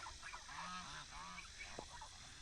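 A flock of African and Chinese geese gives a few drawn-out nasal honks close by, overlapping calls over steady background noise, with one sharp knock near the end.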